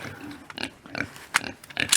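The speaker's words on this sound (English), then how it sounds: "Oh, well, here you go, pig." A pig grunts in a series of short, rough snorts and squeals, close and fairly loud over a noisy background, during a children's Bible class story about a son feeding pigs.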